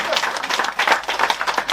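Brief burst of audience applause at a French stand-up comedy show, a dense patter of clapping hands from the room lasting under two seconds.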